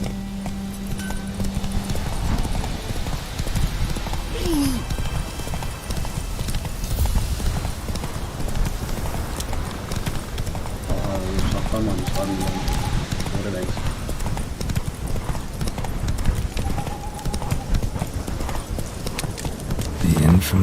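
Horse hooves gallop in The Witcher 3, a fast rhythmic clip-clop running continuously over game music and ambience, with someone speaking over it at times.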